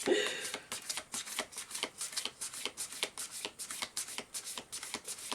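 Millennium Thoth Tarot cards are shuffled and drawn, a rapid run of crisp riffling flicks repeating in quick bursts, close and clear with no speech over them.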